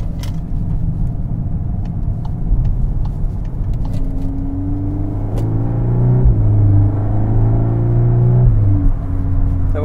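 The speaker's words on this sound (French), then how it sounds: "La voiture fait quand même un bon bruit," A Volkswagen Golf 8 R Performance (320 hp) engine rumbles steadily nearby with a deep exhaust tone, rising in pitch a few times as it revs, no voices.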